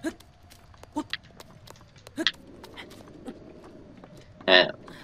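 Horse hooves clip-clop sparsely on the ground in The Legend of Zelda: Breath of the Wild, a few isolated soft thuds spaced about a second apart over quiet game ambience.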